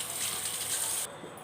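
Water from a tap gushes and splashes steadily while something is rinsed and washed in a kitchen, then drops off sharply near the end.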